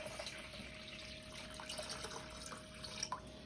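Tap water runs steadily into a bowl for brining chicken, a faint, continuous trickle with small splashy drips near the end and no voices.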